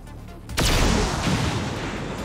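A weapon shot slams into an armored tank in XCOM 2: War of the Chosen, a sudden loud boom with a sharp crack that rolls into a long, dense rumbling decay, standing alone without talk.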